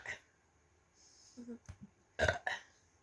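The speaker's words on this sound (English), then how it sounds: "I can't talk, I'm trying to burp." A burp during a family burping contest, ending in a few short, loud, abrupt throaty bursts after quieter breathy sounds and faint vocal noises.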